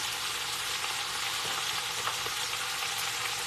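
Pork neck bones brown in a frying pan with a steady, close hiss and crackle of sizzling fat that never lets up.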